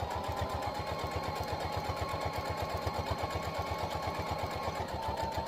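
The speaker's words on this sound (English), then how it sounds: "Straight stitch going straight down." A sewing machine runs a straight stitch down fabric for a key fob, with a steady, rapid needle rhythm that holds at an even, fairly close level and is heard alone.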